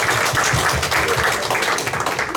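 An audience at an academic history conference applauds to welcome a researcher to the podium, a dense, steady burst of many hands clapping in a hall, loud and continuous throughout.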